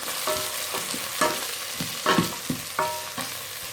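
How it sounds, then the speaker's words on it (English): Food frying in a rice cooker pot with a steady sizzle, punctuated by several scraping stirs of a utensil against the bottom. "after approximately 2 to 3 minutes, it started frying"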